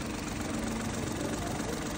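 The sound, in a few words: Suzuki Alto 660cc double-cam engine idling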